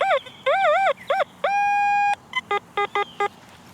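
A metal detector signals over a buried target in Chattanooga ground, giving warbling electronic tones, then one long steady beep and a run of short repeated chirps, loud and close.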